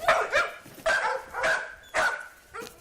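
A drug-sniffing police dog barks four times in a loud, fairly close series, each bark followed by a short pause, with no talk.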